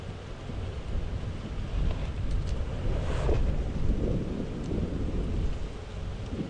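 Strong wind blows across an open vehicle on an afternoon safari drive in a game reserve, a continuous rumbling roar that gusts and buffets the microphone, rising and falling without speech.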